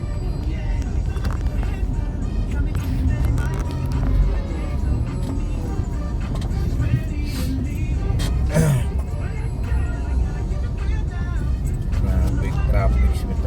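Heavy Metro Manila road traffic rumbles around a vehicle, with the steady drone of engines and occasional passing cars, and people talking nearby throughout.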